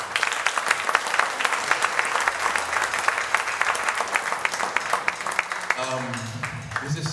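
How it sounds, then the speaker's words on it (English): An audience at a drum clinic in a music store claps loudly and steadily, many hands in a thick burst that thins near the end as a voice starts talking. "Please, round of applause."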